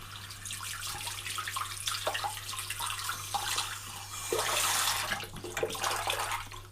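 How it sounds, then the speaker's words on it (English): Warm water runs from a tap into a sink, a steady splashing rush that swells louder toward the end, close by with a low electrical hum beneath. "Get some warm water, fill up your sink."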